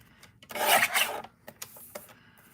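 Paper card being trimmed for an artist trading card, a close rasping scrape of a blade across the card followed by a few short clicks and light scratches.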